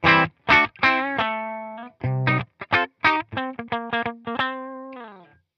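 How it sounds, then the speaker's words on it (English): Clean electric guitar from a Heritage H150 Custom Core played through a Fender Deluxe Reverb amp with the knobs at 12. Short picked notes and chords ring one after another, ending on a sustained chord, with no talk. "So here is my clean tone with the Fender Deluxe Reverb."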